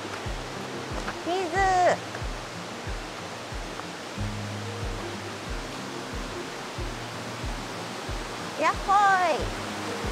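Steady broadband rush of a nearby waterfall on a nature hike on the Côte d'Azur in southern France, continuous throughout, with a rhythmic thumping underneath and brief cheerful voices calling out twice.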